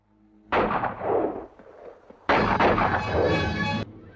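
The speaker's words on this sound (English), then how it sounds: "where sharp, sudden gunfire rang out" Two sharp bursts of gunfire in a western film shootout in a village, each a loud crack followed by a ringing tail, the second sustained and louder, with a brief lull between.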